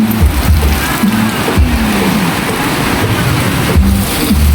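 Steady rain noise, a constant broadband hiss with occasional low rumbles, loud and continuous throughout.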